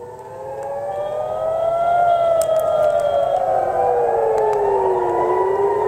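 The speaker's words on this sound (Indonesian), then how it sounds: "Sirine peringatan terdengar di berbagai wilayah, termasuk kawasan pelabuhan utama di Haifa." Air raid warning sirens sound across Israeli cities, including the port area of Haifa. Several loud, sustained wails rise and fall in overlapping pitches, steady and unbroken, with no speech.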